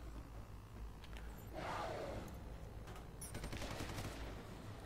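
An automated turret in the video game Alien Breed: Impact fires a rapid burst of gunfire, a rattling fusillade that swells mid-clip and returns later over a constant low game drone.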